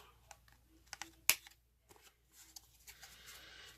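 Paper strips stacked together for planner boxes are snipped at once, giving a few quiet, crisp cuts with one sharp louder snip in the middle, near and alone, with light rustling of paper.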